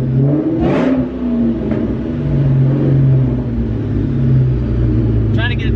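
A loud car engine with a new Magnum transmission rumbles and revs close by inside the cabin in a steady, throaty drone, while people talk over it.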